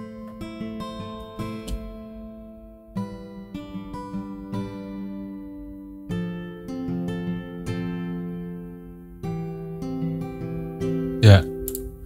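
An acoustic guitar intro made in FL Studio at 153 BPM rings out in sustained plucked chords that change every few seconds, ending in a brief loud burst.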